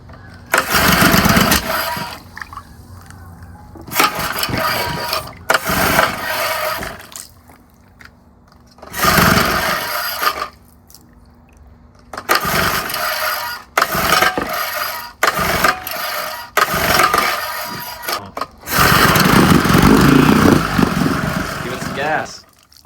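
A 1960s outboard boat motor is started repeatedly and revs in loud, rough bursts separated by pauses, sputtering and cutting out between runs, with people talking in between.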